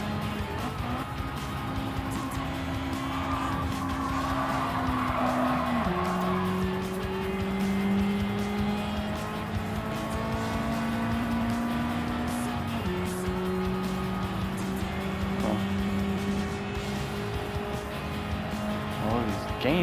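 Race cars in Gran Turismo 7 drone steadily with engine tones that climb and drop at gear shifts, plus faint tire noise, under occasional talk.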